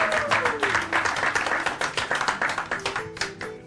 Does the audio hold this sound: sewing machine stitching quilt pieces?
no